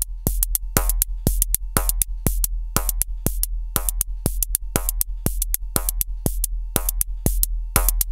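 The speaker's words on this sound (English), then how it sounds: "This is the sound of what we call smashing the drums." A drum groove crushed hard through a WMD compressor hammers along in a steady loop, with punchy booming kicks, sharp snappy hits and a thick pumping low end, all loud and squashed, with no voices.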